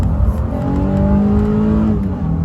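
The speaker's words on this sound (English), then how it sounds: "we'll do one last blast here" A Honda Ridgeline Sport pickup's V6 engine revs hard and climbs in pitch through the gears, loud and close, with a brief dip near the end.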